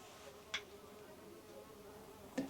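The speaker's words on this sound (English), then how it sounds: "There's a bee buzzing around in here." A bee buzzing around inside a greenhouse, a faint, steady insect drone with two brief louder passes as it flies close.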